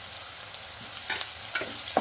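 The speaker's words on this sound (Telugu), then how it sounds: "ఇంకా వీటిని కూడా బాగా ఫ్రై చేసుకోవాలి" Curry leaves and green chillies fry in hot oil in a pan, a continuous sizzle with a few sharper crackles and stirring bursts, close and fairly loud, no talking.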